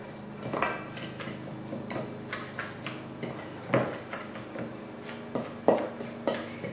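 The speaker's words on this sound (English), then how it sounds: "Just going to give this all a stir." A spoon stirs a dry gluten-free crisp topping of flour, oats, brown and white sugar, cinnamon and nutmeg in a bowl, giving repeated close clinks and scrapes against the dish at an uneven rhythm.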